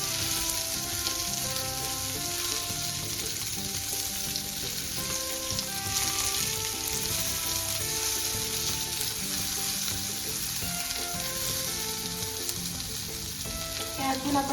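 Semolina-coated prawns fry on a tawa with a continuous dense crackling sizzle, close and steady throughout, with faint music in the background.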